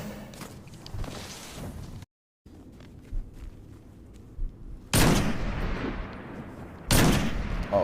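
Gunfire in the Destiny 2 shooter during a Trials of Osiris elimination match, with two sharp, loud rifle-like blasts a couple of seconds apart over a busy backdrop of smaller shots, thumps and footsteps.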